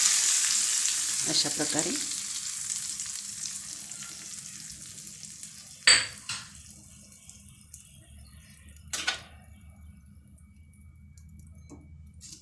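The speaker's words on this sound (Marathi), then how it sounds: "तर यावर आपल्याला हा तडका ओतून द्यायचा" Hot tadka is poured over mixed dal and spinach batter, bursting into a loud hissing sizzle that gradually fades, followed by a few sharp clinks of a utensil against a bowl.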